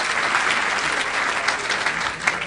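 A crowd at a Lowell St. Patrick's Day breakfast claps steadily, a dense, even wash of applause that holds at full strength throughout, with no speech over it.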